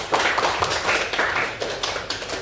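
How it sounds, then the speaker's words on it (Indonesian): A classroom audience applauds for a student named Faris after his answer in a lesson on AI prompting, a short burst of fairly loud, dense hand clapping that fades slightly toward the end. "Beri aplaus untuk Faris."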